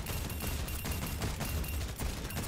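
Pulse-fire gunshots ring out in Overwatch, a dense rapid volley of game gunfire at constant loudness with no talking over it.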